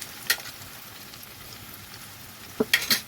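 Chopped onion fries in a pan with a soft, steady sizzle, punctuated by a few sharp scraping clicks of a spatula stirring near the start and end.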